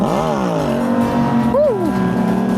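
A small fake mini police car's engine revs up and rises in pitch as it pulls away, a buzzy rising whine with a second quick rev near the end.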